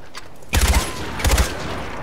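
Assault rifle in Far Cry 4 fires two short, loud bursts of rapid shots separated by a brief pause, with echoing tails trailing after each burst.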